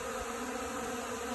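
Honeybees buzz steadily and densely at close range during a first spring cleansing flight over deep snow, a continuous insect drone with no talk over it.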